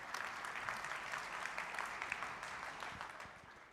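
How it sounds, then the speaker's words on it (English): Steady audience applause fills a hall at an AI research summit as guests are welcomed back onto the stage, dense and even clapping that holds throughout and fades slightly at the end. "Please applause for the folks coming in."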